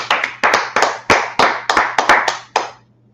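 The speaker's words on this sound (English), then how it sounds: "Okay, clap it up." A class of people clapping in short, sharp bursts, about a dozen separate claps in uneven rhythm, loud and close, with a steady low hum underneath and silence at the end.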